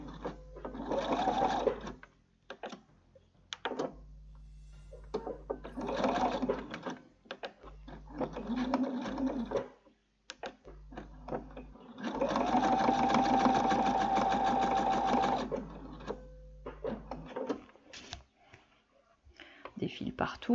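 Sewing machine stitching a Charlotte dress from a Petit Patron pattern, running in several bursts of steady mechanical whirring and clatter separated by pauses, with someone talking between and over the runs.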